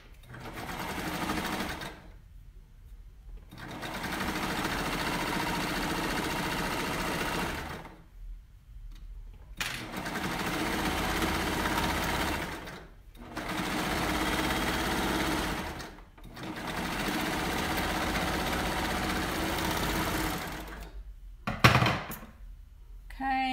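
A sewing machine runs in four long sustained bursts stitching a cardigan sleeve seam, its motor whirring loudly up close, separated by short silent pauses and a sharp knock near the end.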